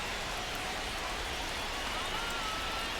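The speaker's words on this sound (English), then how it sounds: "It's a rainy night." Steady rain hisses at a ballpark on a rainy night in the baseball video game MLB The Show 25. The broadband wash is continuous and even throughout, with no talk.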